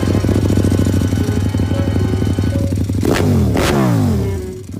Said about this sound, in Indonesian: Harga knalpot 90 juta. boleh geber nggak?